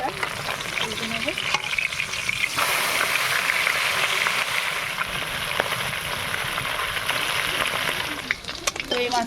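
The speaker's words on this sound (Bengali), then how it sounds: "মাছটা ভেজে নেব।" Fish frying in hot oil, a loud continuous sizzle with bubbling crackle and occasional stirring scrapes, close by and steady throughout.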